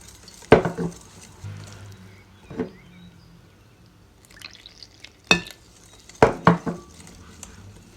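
Milk and flour being whisked into waffle batter in a bowl, with soft stirring and a few scattered sharp clinks of the utensil against the bowl, close by, with no talking.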